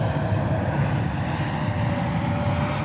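An Alaska Airlines Boeing 737 MAX 8 taxis at JFK airport in New York, producing a steady, broad jet-engine roar that holds evenly throughout without voices.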